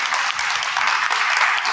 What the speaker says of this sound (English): And those applause are absolutely well-deserved.